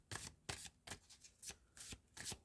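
Angels and ancestors oracle cards being shuffled by hand, six crisp riffling bursts in a steady rhythm, close and clear with no talking.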